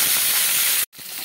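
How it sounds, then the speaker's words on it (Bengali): Fish sizzles in hot white oil, a loud, steady hiss of frying that stops abruptly, then resumes more faintly. The sound is close and constant, with no voices over it. "তেলটা আমার গরম হয়ে গেছে, এখন আমি মাছগুলোকে দিয়ে দিচ্ছি ভাজার জন্য।"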